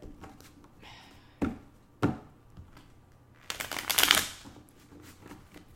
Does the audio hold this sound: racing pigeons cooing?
no